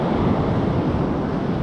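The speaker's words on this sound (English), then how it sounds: "A couple of big waves coming in now again." Large sea waves roll in around a kayak off the Dorset coast near Durdle Door, a loud continuous wash of surf with heavy wind buffeting the microphone throughout.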